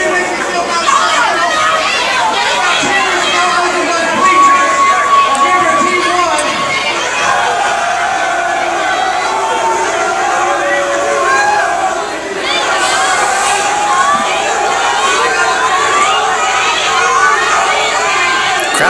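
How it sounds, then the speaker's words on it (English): A loud crowd at a Zero One USA wrestling event cheers and shouts without pause, a dense roar of many voices that swells slightly and holds steady throughout. "The crowd is so loud"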